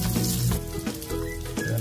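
Garlic sizzling in hot oil in a pan for a vegetable dish with patola, a steady close crackle with a few brief stirring bumps and no talk.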